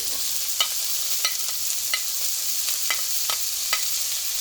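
Broccoli and mixed vegetables stir-fry in a hot pan for Mongolian pot rice, a steady close sizzle punctuated by regular light clicks of a utensil against the pan, with no talking.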